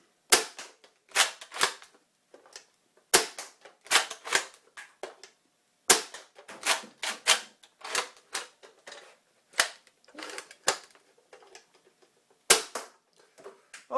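Nerf Recon blaster fitted with an Orange Mod Works stage 2 kit and a powerful spring, fired in sharp, snappy shots, single and in quick bursts with short pauses between, close and loud with no talking.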